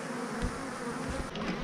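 Angry honey bees drone steadily at an opened hive as a second super is added, a close, continuous buzz with no voices.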